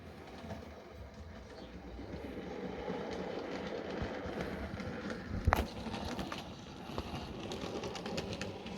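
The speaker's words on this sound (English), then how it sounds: "our engine has gone up over and is now going to make its way back into the carriage sidings" A model railway steam engine rolls toward the carriage sidings, a soft continuous rumble of wheels on track with light clicks and a brief sharp clank partway through, fairly faint with no talk.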